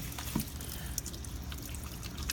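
Water poured during a cat's bath, a continuous soft trickle and splash with faint clinks, no talk.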